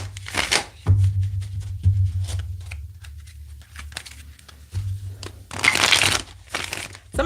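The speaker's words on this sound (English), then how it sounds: "Let's shuffle up the Rider-Waite tarot." Rider-Waite tarot cards riffle and rustle in repeated bursts, near and crisp, with soft handling noises between shuffles and a low hum underneath.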